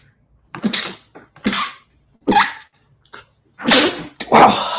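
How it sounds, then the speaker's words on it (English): A series of sharp, explosive sneezes burst out one after another, loud and close, with brief pauses between them. "Sorry about the sneezing."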